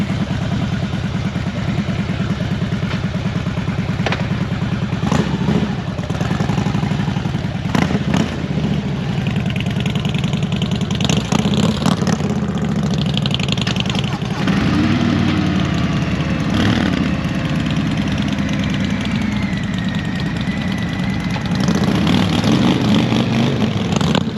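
A new 2021 Harley-Davidson Road Glide in Billiard Red idles with a steady, loud, continuous engine rumble throughout, punctuated by occasional clicks and clatter nearby.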